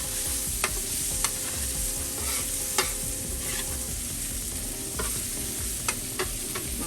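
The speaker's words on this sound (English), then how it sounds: "Go ahead and give those a good toss around on the grill." Onions with burger fond are tossed on a hot grill, sizzling steadily close by with sharp spatula clacks and scrapes punctuating the frying every second or so, no talking.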